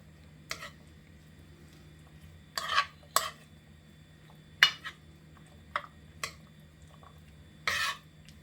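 Pasta is stirred into a pot of food in scattered bursts: several separate scrapes and clinks of a utensil against the pot, with quiet gaps between them.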